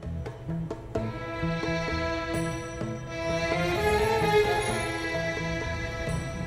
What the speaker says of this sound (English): the orchestra follows this sound up with a sort of snake charmer melody that sounds like this.